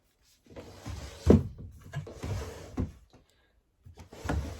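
Wooden clothes drawers are slid open and shut inside a converted bus, producing a series of close rumbling slides and knocks spread over a few seconds, with brief pauses between them.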